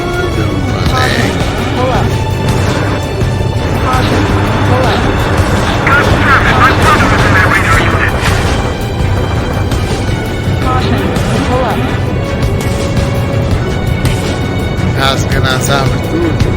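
Continuous roar of jet engines with bursts of missile and gunfire explosions in the combat flight game Ace Combat 7, loud and dense, with someone talking excitedly over it throughout.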